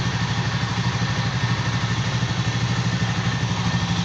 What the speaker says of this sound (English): Engine is running.